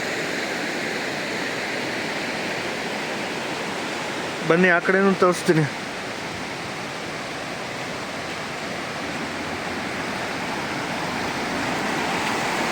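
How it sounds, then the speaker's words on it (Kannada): A waterfall and a fast river swollen by heavy rain in Kerala rush with a loud, unbroken roar; someone speaks briefly over it partway through. "ಇಲ್ಲೊಂದು ಒಳ್ಳೆ ಫಾಲ್ಸ್ ಸಿಕ್ತು ನೋಡಿ, ನದಿ ಹರಿತಾ ಇದೆ, ಸಖತ್ತಾಗಿದೆ."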